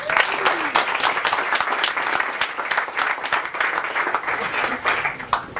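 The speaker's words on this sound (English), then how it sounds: "let's clap it up." A live show audience claps on cue at Gary Vaynerchuk's #AskGaryVee taping, a steady, lively burst of many hands that carries through without letting up.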